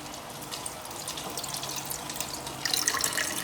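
Water running from a tap into a container for a turtle tank change, a steady splashing flow that grows brighter and louder toward the end as it fills.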